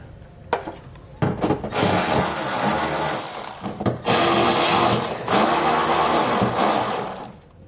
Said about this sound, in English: We're going to remove all the nuts that are holding our exhaust shield on